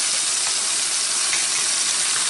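Onion, leek, garlic and a bay leaf sizzle steadily in hot oil, a loud, continuous frying hiss with faint crackles and no voices.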